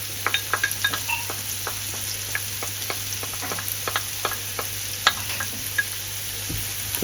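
Finely diced carrots sizzle steadily in a hot pan while a utensil scrapes and stirs them in scattered clicks, close and continuous with no talking.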